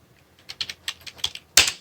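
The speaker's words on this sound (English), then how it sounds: "P for pile. Y for corpses. Arrow keys. Enter." Several quick keystrokes on a computer keyboard, arrow presses in a light irregular patter followed by one louder, sharper Enter press, close and clear with no talk.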